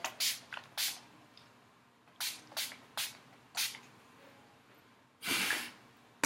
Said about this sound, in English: grab your finishing spray and do a light douse of finishing spray all over your face